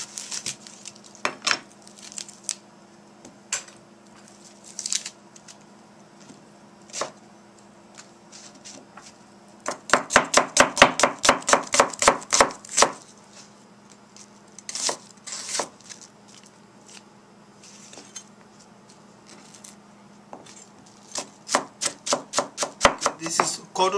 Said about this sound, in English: Right now I'm chopping onions.